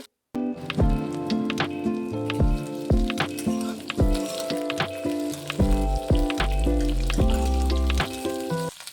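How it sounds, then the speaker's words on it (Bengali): Spinach and mixed vegetables fry in a pan over a medium-low gas flame, crackling and spitting nearby in sharp bursts over a constant sizzle, with no one talking. "দুই থেকে তিন মিনিট গ্যাসের ফ্লেম মিডিয়াম টু লোতে রেখে ভাজা ভাজা করে নিতে হবে"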